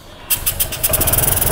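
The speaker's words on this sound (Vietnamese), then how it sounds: "Vâng ạ, tôi sẽ nổ máy ạ." A 2021 Honda SH 125 scooter, with an odd engine noise likened to a tractor, starts up after a brief quiet moment and settles straight into a loud, close, rapidly pulsing idle.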